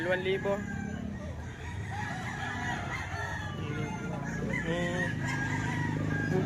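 A Pumpkin Hatch gamecock rooster at a fowl market in Lipa, Batangas crows and clucks amid a noisy crowd, with people talking nearby and the bird's calls rising above the chatter.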